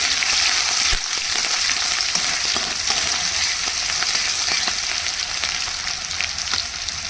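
Onion, green chili and garlic hit hot oil in a pan and crackle into a loud, dense sizzle with a sharp burst near the start, then keep spitting steadily under occasional stirring scrapes.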